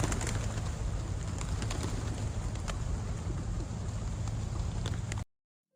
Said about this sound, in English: the cool thing I noticed was these nice pigeons